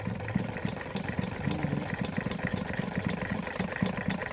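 A sewing machine runs a rapid, even mechanical chatter while stitching the under-packing seam of a sleeve, close and continuous with regular clicking pulses throughout.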